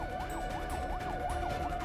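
An ambulance siren wails in rapid rising and falling sweeps while the vehicle drives through busy traffic, loud and steady over a low engine rumble.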